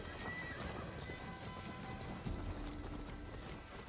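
Horses gallop during a mounted fight in a video game, a dense rapid clatter of hooves with neighs and steady background game noise, heard throughout at moderate level with no talk.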